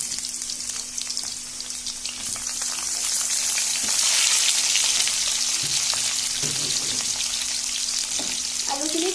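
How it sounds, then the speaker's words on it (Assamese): Potatoes fry in oil left over from frying pork, a steady, bright sizzle throughout, growing louder midway, with occasional stirring clinks and scrapes in the pan and no talking. "এইটো তেলতে আমি আলুখিনি ফ্ৰাই কৰি লম।"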